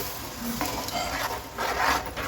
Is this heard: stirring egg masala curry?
yes